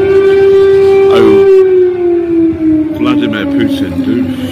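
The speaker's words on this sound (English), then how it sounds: "It's the air raid siren." An air raid siren wails loud and close. Its long tone rises and then slowly falls, with a person speaking over part of it.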